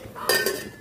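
A lid settles onto a cooking pot of tilapia fish soup with sweet potato tops, giving one close metallic clink and a short ringing rattle.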